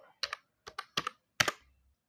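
Router commands are being typed on a computer keyboard: six or seven crisp, close key clicks in small uneven clusters, separated by short silent gaps, with no talk.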